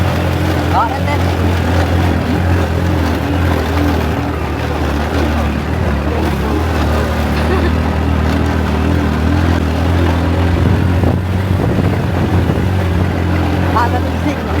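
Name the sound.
motorcycle riding along a farm track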